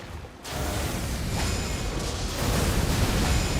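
Lightning bottle explodes in Elden Ring: Shadow of the Erdtree, a sudden loud burst that turns into a sustained crackling, rumbling roar lasting several seconds.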